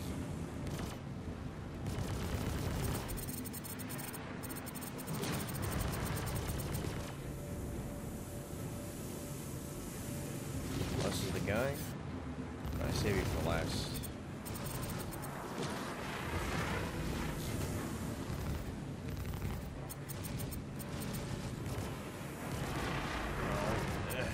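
Missile explosions and gunfire in the space combat game Star Citizen, with repeated heavy booms and rumbling blasts over a dense, constant roar of engine and weapon noise, and a voice talking at times over the action.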